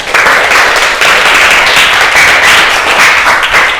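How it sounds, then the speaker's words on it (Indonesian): Classroom of university students clapping for a classmate named Yuda, a loud, close burst of brisk hand claps that keeps up steadily throughout, without voices. "Tepuk tangan dulu buat Yuda."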